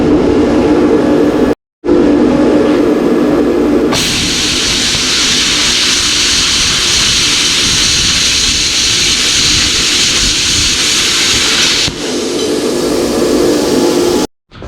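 A Yes Welder Cut 65DS plasma cutter runs its 20-second post-flow gas, a loud, steady rushing hiss that holds evenly for several seconds between brief cutoffs.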